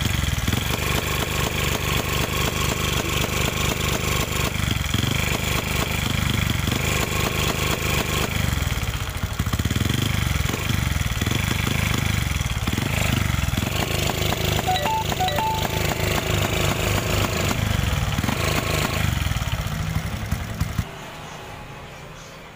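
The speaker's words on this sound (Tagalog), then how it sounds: "kung maririnig nyo mga kaukoy ay umaandar siya, ano, pero iangat natin yung RPM." A Honda Wave 125 motorcycle engine with a hard-starting problem runs loud and steady nearby while the revs are raised, then cuts off abruptly near the end.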